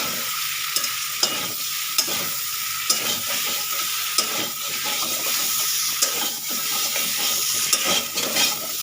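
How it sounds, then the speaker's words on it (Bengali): Turmeric powder and ground spice paste fry in hot oil for a Bengali fish curry, hissing continuously while a spoon stirs and taps the pan at irregular intervals. "দিয়ে দিলাম হলুদ গুঁড়ো বাটা মশলা দিয়ে ভালো করে কষে"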